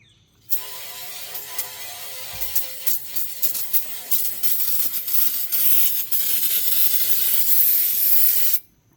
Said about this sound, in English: Just going to spray this pan out.